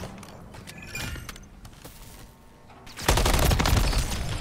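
Gunfire in Call of Duty MW3 online ranked play, scattered shots early on followed by a loud, sustained burst of rapid fire near the end, close and punchy.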